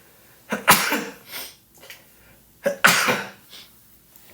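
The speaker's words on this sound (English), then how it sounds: "I got to sneeze." Two sharp sneezes from a person, each with a quick in-breath and an explosive burst, a couple of seconds apart, close and loud.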